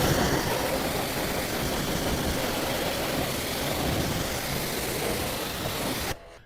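Steady broadband spray of a water rinse washing brake dust and grime off a car during detailing, continuous and fairly loud throughout, cutting off abruptly near the end.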